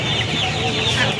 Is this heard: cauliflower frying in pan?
no